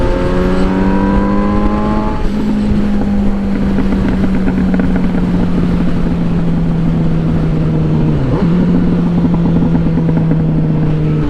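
A Suzuki GSX-S 750 motorcycle with no exhaust drones loudly and close at a steady engine pitch, with a quick blip of the throttle and a popping burble partway through, no speech.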